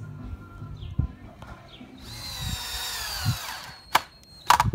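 A power drill countersinking screw holes in a wooden balance beam, its whine rising for a couple of seconds up close, with knocks and handling bumps before and after.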